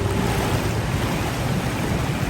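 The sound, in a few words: jungle waterfall at flooded lake campsite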